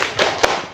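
Schoolchildren in a classroom do a spirit clap, a few quick sharp claps in a short rhythm, close and loud against the room's background.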